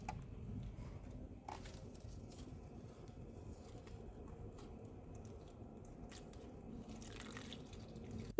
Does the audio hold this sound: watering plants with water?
yes